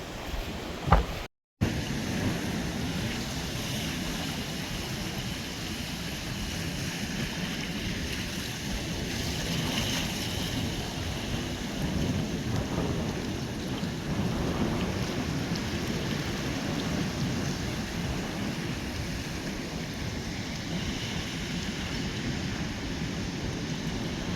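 Strong wind buffeting on the Irish coast, a continuous loud roar and rumble that fills the whole stretch after a brief cut near the start, with no talking.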